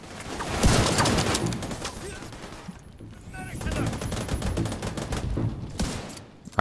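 Sniper gunfire in the video game The Division 2, heard as dense, loud bursts of shots and impacts that keep going for several seconds, with game effects layered over the firing.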